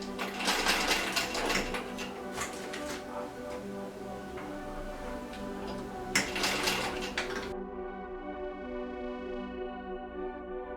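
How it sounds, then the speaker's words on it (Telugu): Sewing machine running steady rapid stitches on fabric hangings, a close mechanical whir with clicking bursts over several seconds, then settling into quieter tonal hum; no speech. "ఇప్పుడు పైన కుట్టు వేసుకోవాలి."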